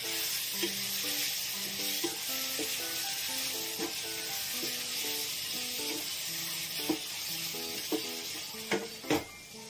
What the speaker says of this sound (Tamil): இப்போ ரெண்டு நிமிஷம் ஆச்சு ஓப்பன் பண்ணி கலரி விட்டுடலாம்